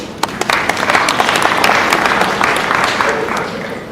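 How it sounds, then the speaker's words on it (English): Enthusiastic applause from a conference audience, a dense patter of claps with a few sharper hits, fading slightly toward the end. "Round of applause."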